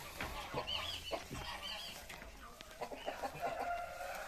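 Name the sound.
bantam chickens clucking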